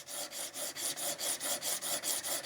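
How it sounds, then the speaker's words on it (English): A file works down peened, mushroomed brass pins on a handmade folding knife. About a dozen close, even rasping strokes follow one another at a steady rhythm. "I'll start filing this down now as it's been peened and mushroomed over"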